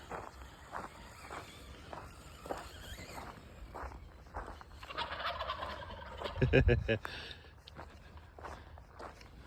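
Turkeys gobble in bursts at a moderate distance, with footsteps and a short loud rumble partway through.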